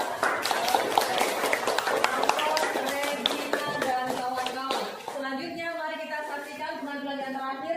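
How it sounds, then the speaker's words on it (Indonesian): Classroom applause from students, a dense patter of many hands clapping that fades into voices talking over it in the second half. "mari kita beri aplaus dulu untuk kelompok 2"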